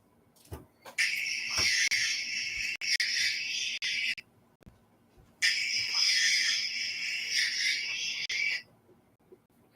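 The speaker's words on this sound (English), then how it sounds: "you hear so many crickets in the background" Crickets chirping outdoors in the background, two long bursts of dense high-pitched trilling separated by a short gap, with faint clicks and knocks around them.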